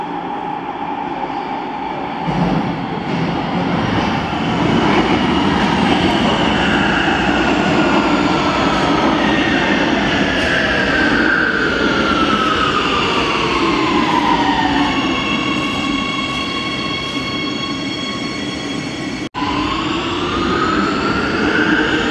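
A Warsaw Metro line M2 subway train runs with a loud, continuous rumble and rising and falling electric motor whine as it accelerates and slows, heard from inside the car without talk.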